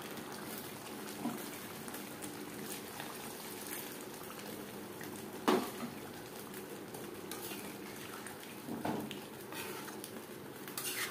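Chicken and potato curry simmering in a pot after spice-rinsing water is added, a soft continuous bubbling hiss with a few louder pops and stirring clinks, close and fairly quiet.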